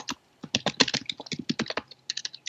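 Rapid keystrokes on a computer keyboard during a coding session, a steady run of close, crisp clicks with a brief pause before a final burst.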